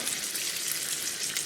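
Hamburger meat sizzling in a frying pan, a steady broadband hiss and crackle, loud and close, running without pause and with no talk.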